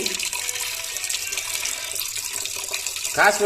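Water runs steadily through an instant mini water geyser as it begins heating, a close, even hiss of flow with a brief brighter splash near the end.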